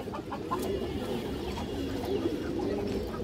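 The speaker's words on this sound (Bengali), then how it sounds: "পুরো ফুল ডাউন শেপের কবুতর দর্শক" Pigeons cooing on a farm, low murmuring coos mixed with faint fowl clucks in the background, quiet and continuous over a short stretch.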